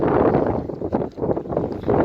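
Strong wind buffeting the microphone in a steady roar with gusts rising and falling, close and loud, no talking, high in the mountains near Too-Ashuu pass in Kyrgyzstan, by snow.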